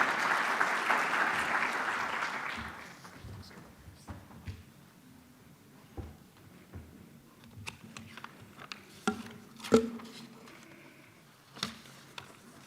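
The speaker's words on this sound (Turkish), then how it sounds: "Yine alkışlarınızla lütfen" A short burst of applause at an opening ceremony fades out quickly, followed by quiet room noise with scattered soft taps and knocks.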